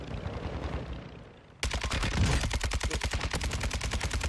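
Sustained, rapid automatic fire from a Kastov 762 rifle in Warzone 2, loud and close, with evenly spaced shots running steadily for several seconds after a quieter stretch of ambient game noise.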